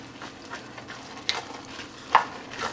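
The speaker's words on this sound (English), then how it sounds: "I'm going to give this a stir." Peas sizzling in a pan for pork chop country sides, with a soft steady fry under scattered scrapes and two sharper clinks of a spoon stirring.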